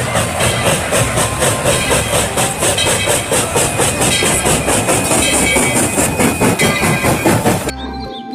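Continuous rattling toy Thomas train noise with a steady clickety-clack rhythm, loud and close, cutting off abruptly near the end.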